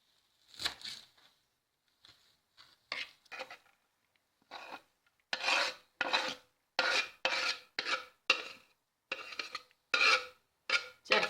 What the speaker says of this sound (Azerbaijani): Ve cəfərini doğrayırıq.